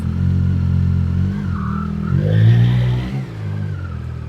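A 2025 Yamaha MT-09 Y-AMT automatic motorcycle pulls away in first gear from city traffic lights. The engine hums steadily up close, then swells as the throttle opens before easing back.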